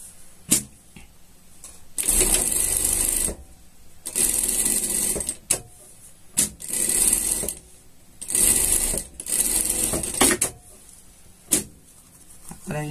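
A sewing machine stitches a seam on unicorn pajamas in a string of short bursts separated by pauses, its motor whirring close and loud, with clicks from handling between runs and no speech.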